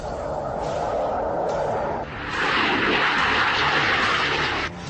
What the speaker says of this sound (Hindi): लद्दाख के आसमान में सुखोई और MiG-29 जैसे विमानों की गड़गड़ाहट